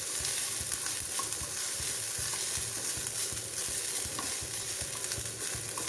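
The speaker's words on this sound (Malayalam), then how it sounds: "നന്നായിട്ട് തേങ്ങ വറുത്തെടുക്കണം" Grated coconut roasts in a pan for koottukari, giving a steady, soft sizzle broken by repeated scraping and stirring strokes. No voices are present.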